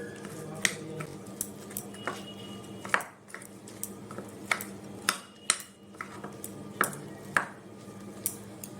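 Chopped parwal is mixed in a bowl with besan, salt and amchur powder, producing close, intermittent clinks and scrapes of a utensil against the bowl over a quiet background.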